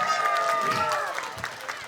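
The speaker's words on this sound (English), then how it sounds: "Let's give them both a round of applause." Crowd applause and cheering at a church Vacation Bible School night for two competing teams, a dense wash of clapping and voices across the room with music-like tones running underneath.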